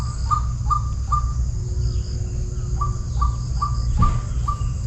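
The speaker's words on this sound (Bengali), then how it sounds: "গাছের ডালায় বসে তাদের কিচিরমিচির শব্দ" Birds chirp in short repeated tweets at a steady rhythm over a constant background hum, with a couple of other calls mixed in.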